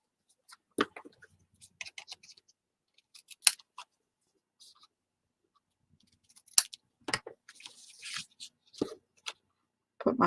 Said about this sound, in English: I'll just trim off the extra.